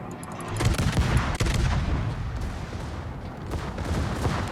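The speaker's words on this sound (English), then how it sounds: "I wonder if point blank shots into this battleship will cause quite a bit of damage" Heavy naval gunfire from a battleship duel in World of Warships, with the U.S.S. Charleston cruiser firing point-blank: dense, loud booming salvos rumbling continuously, with sharp cracks near the start and a steady roar throughout.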